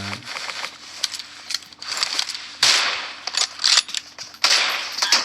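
Rapid gunfire from PUBG Mobile, a battle royale game, crackling in repeated bursts and single sharp shots that come loud and close throughout, with brief gaps between volleys.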